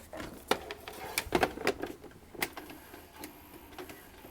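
National NV-3000 VCR powering up, with a scatter of faint mechanical clicks and ticks from its mechanism over a few seconds, close by and quiet.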